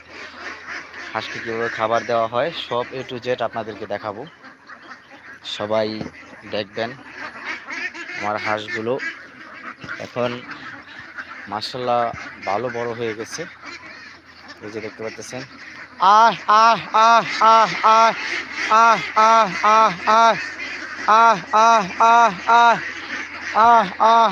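Domestic ducks being fed from food trays, calling with loud repeated quacks that grow into a dense, rhythmic chorus in the second half, with someone talking over the earlier part.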